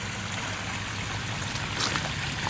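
Water pours from a garden waterfall into a pond with a steady, close, continuous rushing splash that holds an even level throughout.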